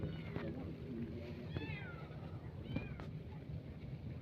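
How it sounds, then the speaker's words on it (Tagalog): A cat meows a few times out in a farm garden with squash and okra plants, short rising cries heard close amid rustling outdoor background noise. "Gusto sumama yung pusa to."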